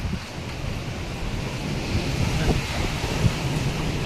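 Strong typhoon wind roars steadily in gusts along a shallow flooded shore in Bicol, loud and continuous with a rushing, surf-like hiss.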